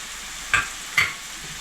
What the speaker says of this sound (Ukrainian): і обсмажую. Далеко не відходжу, періодично помішую і випарюю вологу з яблук.